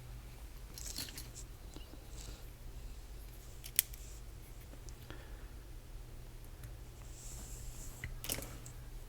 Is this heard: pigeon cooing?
no